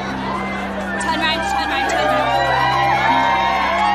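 A large crowd shouts and chatters during a royal visit by the Duchess on a sweltering day, with whoops rising out of a steady outdoor babble of many voices that carries through the whole stretch.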